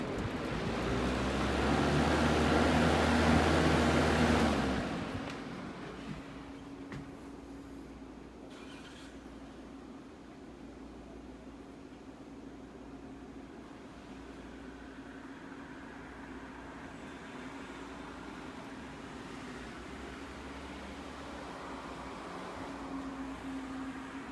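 An old late-1970s or early-1980s Lasko fan spins down, a loud whooshing rush of air that fades quickly after a few seconds into a faint, steady whir and hum.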